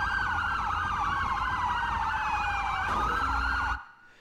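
Overlapping video game ambulance sirens wail loudly and steadily, then cut off abruptly near the end, leaving near silence.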